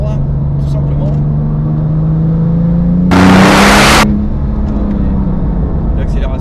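A Porsche 997 GT2 accelerates hard on an open road, its engine note climbing steadily in pitch, with a brief loud rush of noise midway and a voice talking over it.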